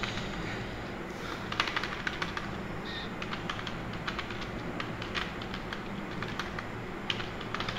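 Rapid keystrokes on a computer keyboard come in quick irregular bursts of clicks, close and fairly quiet, with short pauses between runs and a steady low background hum.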